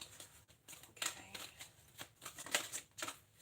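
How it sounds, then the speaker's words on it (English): Tarot cards are shuffled close up in repeated quick riffles and soft slaps, with irregular bursts of papery rustling. "I'm just going to keep shuffling."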